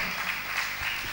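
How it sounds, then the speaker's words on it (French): An audience at a debate event claps in a steady, dense wash of applause, sustained and fairly loud throughout the short stretch. "On peut quand même l'applaudir, hein?"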